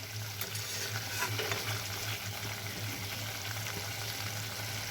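Okra masala with ladies finger sizzles and fries gently in a pan, a soft continuous crackle with occasional stirring, faint and close, with a low steady hum beneath and no talking.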